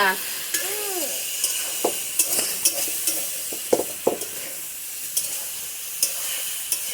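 Cauliflower florets sauté in a pan for a vegetarian curry. A steady sizzle is punctuated by sharp scraping clinks of a spoon stirring against the pan at irregular intervals.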